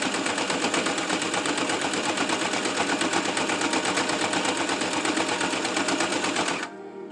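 A sewing machine stitches a fabric face mask in a fast, steady, close mechanical whir of rapid needle strokes, running for several seconds before stopping suddenly.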